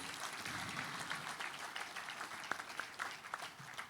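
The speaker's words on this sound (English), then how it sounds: "A bigger round of applause, please." Audience at a Nigerian Institute of Architects general meeting applauds, a sustained wash of clapping from a fairly distant crowd with a few sharper individual claps near the end.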